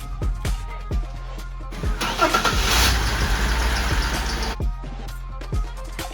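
Engines of a Cadillac CTS and a Pontiac Trans Am in a garage as the cars are driven out: a rumbling engine swells into a loud, dense roar for a few seconds, then settles back to a lower idle, with no talking.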